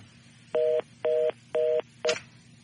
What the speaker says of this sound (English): Oh, I dialed 214.